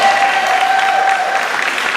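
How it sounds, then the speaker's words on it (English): Room full of faculty gives a staff member a short, loud round of applause, steady dense clapping throughout with a faint voice underneath. "I'm sure that you guys will definitely give her a round of applause"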